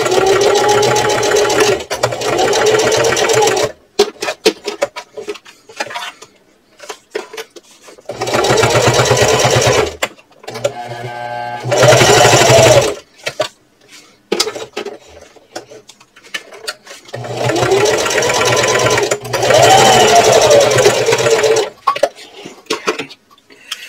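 Sewing machine running a basting stitch 1/8 inch in across three sides of a purse; several loud bursts of fast whirring stitching separated by pauses with small handling clatter, close by.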